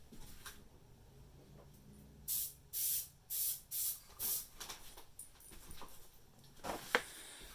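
Six short, evenly spaced bursts of aerosol spray hiss, close and crisp, followed by a couple of faint quick sprays amid quiet handling noise.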